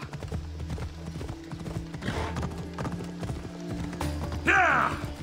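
Horse hooves clip-clop in a steady rhythm as a mount trots in the video game Assassin's Creed Odyssey, with a brief whinny near the end over a faint game soundscape.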